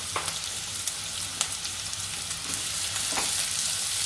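Sliced onions and cinnamon fry in hot oil in a pan, a steady close sizzle with a few scattered stirring clicks and scrapes.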